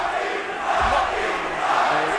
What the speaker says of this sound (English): the crowd starts chanting Rocky